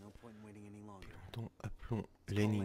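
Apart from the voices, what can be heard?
None of the usual background noises is heard.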